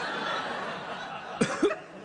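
Two short, sharp coughs close to the microphone, a quick pair near the end over faint room noise.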